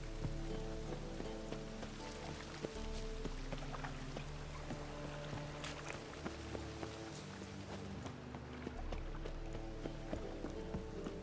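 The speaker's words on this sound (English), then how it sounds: "Rain again." Steady rain in The Witcher 3 hisses throughout as a broad wash of sound beneath sustained game music, with occasional clopping horse hooves and faint knocks mixed in.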